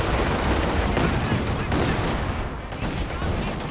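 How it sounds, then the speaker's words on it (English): Katyusha rocket barrage in the World War II strategy game Company of Heroes 2, a dense, continuous rumble of rapid explosions and battle noise, fairly loud and sustained under a commentator's voice. "Second Katyusha barrage in."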